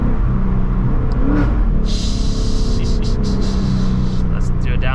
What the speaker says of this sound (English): Downshift with tunnels and long tube headers on a Mustang.